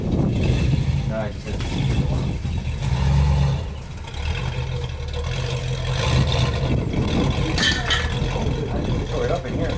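A 1968 Ford LTD engine revs close by, a loud, continuous rumbling roar that swells and eases for about ten seconds, with people talking over it.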